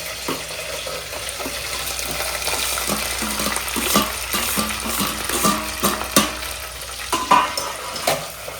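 Onion and green chili sizzle in a hot pan, a steady broadband fry with scattered stirring clicks and scrapes growing busier toward the end, close and fairly loud with no talking.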